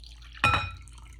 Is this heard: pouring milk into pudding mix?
yes